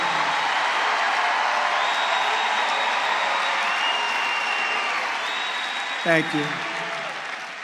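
A political rally crowd in Duluth, Georgia, keeps up loud, sustained applause and cheering throughout, with someone briefly speaking over it near the end.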